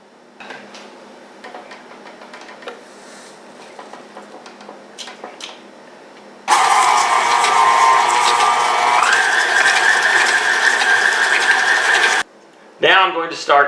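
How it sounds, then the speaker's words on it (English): Electric hand mixer whirs loudly and steadily, beating sugar, vanilla and eggs into an oatmeal cake batter. Quieter clinking and handling noises come before it, and the motor stops abruptly near the end. "we're going to mix that up until they're well combined"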